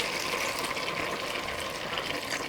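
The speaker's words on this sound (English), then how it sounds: "So I'm going to add water to the level of this potato." Water poured steadily into a pot of potatoes, a continuous splashing, gurgling fill heard close up and alone for a few seconds.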